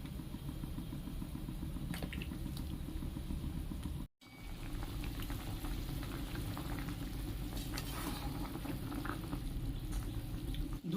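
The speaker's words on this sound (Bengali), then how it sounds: "ঝোল ফুটে এলে সবজিগুলো দিয়ে দেবো" Curry broth for a taro and eggplant dish with hilsa bubbles quietly in a pot, a soft, continuous simmering and light sizzling with a brief gap partway through.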